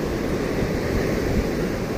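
Strong ocean waves wash steadily on a dangerous beach, a continuous broad roar of surf mixed with wind buffeting the microphone, with no distinct breaks.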